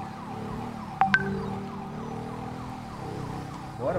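Ambulance siren in GTA 5 wailing in a repeating rising-and-falling pattern over traffic, with a couple of sharp blips near the start and a vehicle engine droning beneath.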